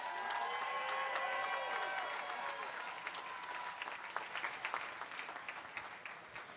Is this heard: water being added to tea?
no